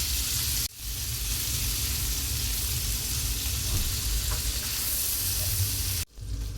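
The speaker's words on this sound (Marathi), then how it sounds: "आता याच पॅनमध्ये मी थोडंसं बटर ॲड करून थोडेसे व्हेजिटेबल फ्राय करून घेणार आहे." Boiled vegetables fry in butter in a pan, a strong steady sizzling hiss that holds evenly for several seconds, cut off by two brief silent gaps, close up with no one speaking.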